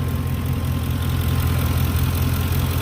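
A Lincoln Town Car 4.6 engine idles loud and close after a fuel injection flush, a steady low throbbing hum that holds even throughout.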